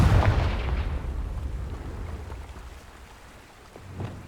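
Confringo, a fire spell in the Hogwarts Legacy video game, lets out a booming, rumbling blast that trails off over a few seconds, ending in a faint second impact.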